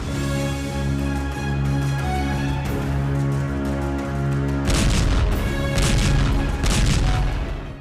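Booms and crackling blasts from a Hezbollah rocket attack near Tel Aviv, with a sustained low rumble that erupts into a dense burst of sharp, overlapping impacts partway through, loud and continuous.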